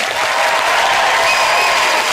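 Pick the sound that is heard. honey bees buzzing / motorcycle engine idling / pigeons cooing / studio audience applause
studio audience applause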